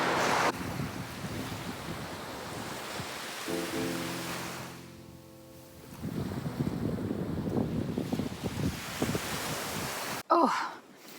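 Wind buffets the microphone on a wild shore while sea waves wash and surge steadily, loud and close, with a brief lull midway and a sharp knock near the end.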